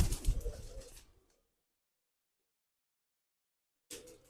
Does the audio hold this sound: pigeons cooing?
yes